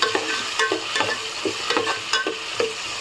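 Tomato, curry leaves, green chilli and onion are stirred in a hot pan for khichdi, with a constant sizzle under repeated scraping strokes of a spoon, roughly every half second.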